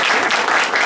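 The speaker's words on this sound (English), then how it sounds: "I think actually the applause should go to Amy's parents" Audience applause at a press announcement with the Chicago mayor, a brief, loud, dense wash of clapping.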